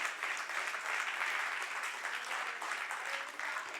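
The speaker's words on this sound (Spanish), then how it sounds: "Denle un aplauso, Señor, claro que sí." A church congregation applauds during a worship service, a steady sustained wave of clapping from many people, moderately loud and slightly distant, with no talking over it.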